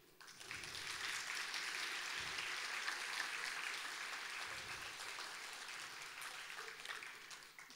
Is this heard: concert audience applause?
yes